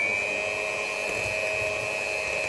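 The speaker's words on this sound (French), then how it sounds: "Je vais me munir d'un batteur à main afin de blanchir le mélange." An electric hand mixer whips eggs with white sugar for a chocolate cake batter, giving a steady, unbroken motor whine at moderate level with no talking.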